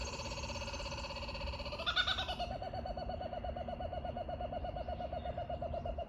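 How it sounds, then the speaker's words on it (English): A kookaburra calls at the Hunter Wetlands in Australia. A sustained tonal cry shifts into a long run of rapid, evenly pulsed chuckling notes at moderate distance over steady outdoor background noise. "They make so much noise, the kookaburras"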